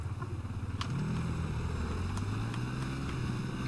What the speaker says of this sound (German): Motorrad, Motorrad, Motorrad!